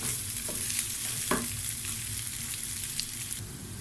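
Rice and thin vermicelli toasting in oil with salt in a pot, giving a steady broadband sizzle with a few scraping stirs of a spoon against the pot, close and continuous.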